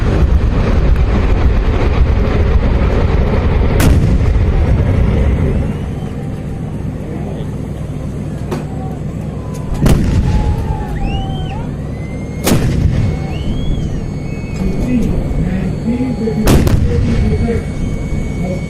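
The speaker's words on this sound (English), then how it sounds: "We will now show you the punch of an artillery concentration by these guns" Artillery guns fire a concentration barrage: sharp, loud blasts go off one at a time at irregular intervals over a continuous rumbling roar, with distant booms echoing between the shots.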